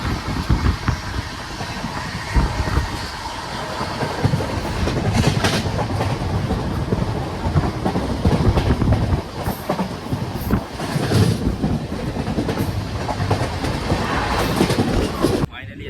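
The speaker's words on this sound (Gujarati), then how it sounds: "હવે ટ્રેન ઉભી રહેવાની તૈયારી જ છે તો ગાંધીનગર ઉતરી જઈએ" A passenger train runs on rails as it nears Gandhinagar station, with a loud continuous rumble and rhythmic clickety-clack of wheels heard from onboard, and some voices faintly in the background.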